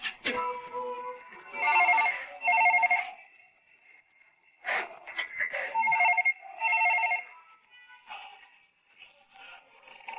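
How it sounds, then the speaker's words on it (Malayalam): A telephone rings loud and close in repeated trilling bursts separated by short pauses, continuing unanswered throughout. "ഇതെന്താ ഫോൺ എടുക്കാത്ത സ്വരൂപേ?"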